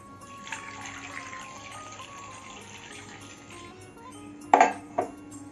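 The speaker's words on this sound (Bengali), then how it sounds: "জল দিয়ে দেবো।" Water runs into a pot of turmeric set up for boiling, a soft steady pour from a tap with faint metallic clinks, ending in two sharp clanks of the pot close by.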